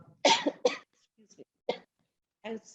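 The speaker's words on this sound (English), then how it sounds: "got a severe bad cough" A couple of sharp coughs from a severe cough close by, followed by faint sounds and a brief burst of voice, with quiet gaps between.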